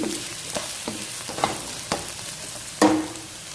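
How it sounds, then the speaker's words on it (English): Finely chopped cabbage and capsicum frying in a pan for Cabbage Manchurian, a steady sizzle with several scraping stirs of the spatula, close up and with no talk. "So I'm allowing it to fry for a few more seconds."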